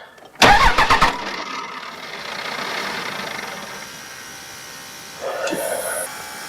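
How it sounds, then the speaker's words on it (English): A 2001 Dodge Ram 3500 diesel cranks loudly and close by in a short, rapid burst of starter chugs. A lower mechanical hum follows, with a brief whirring rise near the end. "Okay, give me a 2-second crank."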